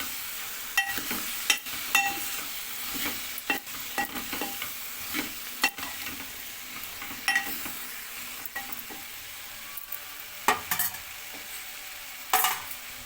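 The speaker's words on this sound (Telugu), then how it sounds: "ఇప్పుడు కట్ చేసి పెట్టుకున్న బెండకాయ ముక్కలు అయితే వేసుకోవాలి ఒకసారి ఇదంతా ఉప్పు పసుపు కలు కలిసేలా కలుపుకోవాలి" Cut okra pieces being stirred with salt and turmeric in a hot pan give a close, continuous sizzle broken by repeated scraping strokes of the spoon, with no talk.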